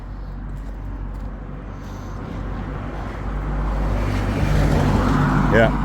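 A car drives slowly along a street at night, its low engine and tyre rumble steadily growing louder as it approaches.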